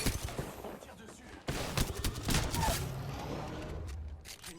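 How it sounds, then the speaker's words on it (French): Gunfire in the Apex Legends battle royale game: dense, sustained bursts of shots and impacts rattle steadily through the whole stretch, swelling louder halfway through, with a voice talking over the action. "On me tire dessus."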